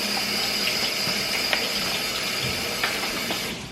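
Water runs steadily from a faucet during messy egg cracking at home, a constant hiss with a few faint clinks and knocks partway through, and no talking over it.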